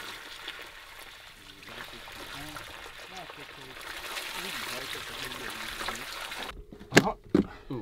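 Water trickles and splashes steadily out of an Audi A6 after a drain plug is pulled, following a vehicle recovery with a winch; near the end a couple of sharp louder knocks or splashes stand out.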